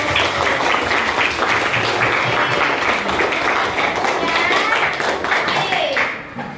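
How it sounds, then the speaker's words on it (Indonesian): A classroom of students clap together during an Indonesian school lesson, loud, dense and close, sustained for several seconds before tapering off at the end, with voices mixed in. "Semuanya tepuk tangan dulu"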